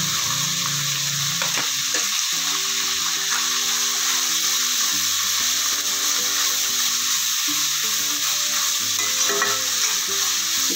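Vermicelli upma frying in a pan is stirred continuously, a steady close sizzle with scraping stir strokes, no talking.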